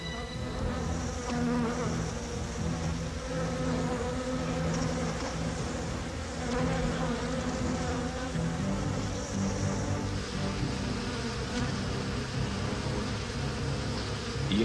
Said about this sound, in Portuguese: Mais abelhas saem de dentro e se preparam para a partida.